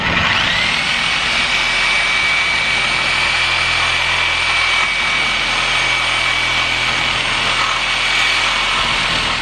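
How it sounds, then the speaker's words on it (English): Steel tubing for a C3 Corvette seat belt harness bar being cut by a power tool, a loud continuous high whine that holds steady for the whole stretch, close by and with no speech. "So I'm gonna cut the tubing now"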